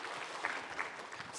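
A church congregation at a Korean Holy Week dawn prayer service applauding together, a brief, even burst of many hands clapping in a reverberant hall, moderately loud with no voices on top.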